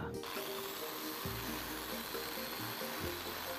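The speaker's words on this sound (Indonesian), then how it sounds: "Kita lubangi dengan bor 1 mm, 1 cm maksudnya, perlahan ya supaya tidak pecah." A small power drill with a 1 cm bit whirs steadily, its pitch dipping and rising as it slowly bites into bamboo, fairly quiet and with no talking.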